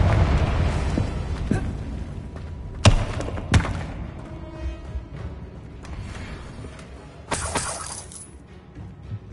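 Blasts from the Confringo spell in Hogwarts Legacy on PS5 burst out as several sharp, loud explosive cracks with shattering debris. They come at irregular intervals over low rumbling game ambience.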